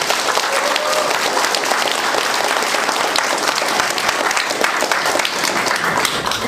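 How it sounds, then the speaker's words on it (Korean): Crowd at a Korean political campaign speech gives loud, sustained applause, a dense continuous clatter of many hands that fills the whole stretch without pause. "여러분들 맞다고 생각하시면 박수 한번 주세요."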